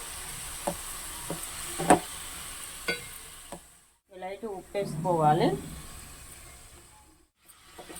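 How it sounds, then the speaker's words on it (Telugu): Fresh greens frying in oil, a soft sizzle with a few clicks and stirring sounds, then someone speaks briefly over the faint frying hiss. "మంచిగా నూనెలో ఫ్రై కావాలండి"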